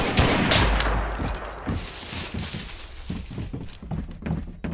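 Gunfire in Mud and Blood: a loud opening blast, then a steady run of distinct shots and heavy thuds, some near and some farther off, with no talk over it.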